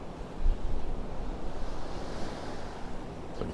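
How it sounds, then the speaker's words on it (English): Clear sea water sloshing and lapping around a small boat bobbing off the coast of Portals Nous, Mallorca, a steady close wash with wind noise on the microphone and no voices. "Boat bobbling around in the water there."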